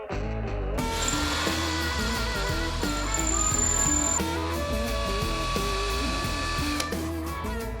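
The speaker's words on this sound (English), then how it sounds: "I think it might be time to break out the power tools." Loud whirring of a power tool running continuously, with a droning motor hum and rising, shifting pitch.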